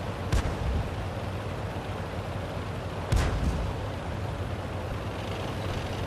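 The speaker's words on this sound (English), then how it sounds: "There's somebody firing away, but not doing much." Two heavy artillery shots from a self-propelled gun in a tier 5 tank video game, one early and one around the middle, each a loud boom over a constant rumbling engine drone, with no voices.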